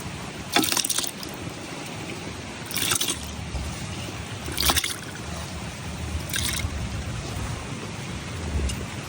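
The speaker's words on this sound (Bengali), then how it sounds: "এখন পানিটা ফালাই দিতেছি" Water is poured off washed mung lentils in four short, splashy gushes spaced a couple of seconds apart. Each pour is close and fairly loud over a quiet kitchen background.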